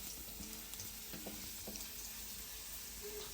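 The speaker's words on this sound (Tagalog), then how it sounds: "Lagay na natin yung garlic guys. Igigisa na natin to." Garlic sautéing in a pan for pork menudo, a soft steady sizzle with a few light stirring clacks, fairly quiet and without speech.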